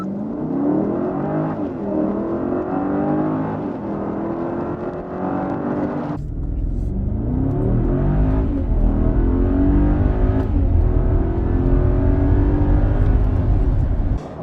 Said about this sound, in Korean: 이 큰 덩치가 아주 짧은 거리에서 시속 100km를 주파하고 있습니다.